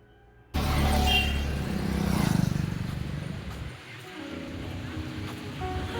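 City road traffic during the Ganpati festival, heard as a loud, continuous roar of passing vehicles with wind buffeting the microphone, easing slightly toward the end.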